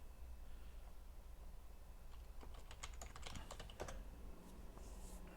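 Computer keyboard typing during a coding session, a quick run of light clicking keystrokes in the middle, faint and close over a low steady hum.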